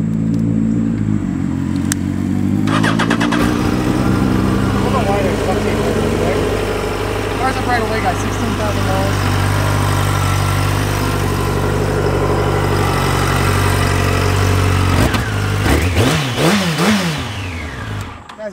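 A 2009 Yamaha FZ1 motorcycle with 16,000 miles starts up and settles into a steady, close idle, with a few throttle blips partway through and near the end.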